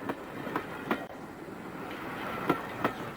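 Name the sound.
Flying Scotsman steam locomotive running on railway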